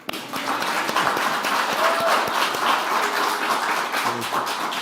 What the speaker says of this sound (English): Y'all could clap for her.